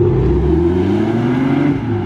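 A BMW engine revs loud and close, holding a steady low droning note that slowly rises in pitch, with no voices over it.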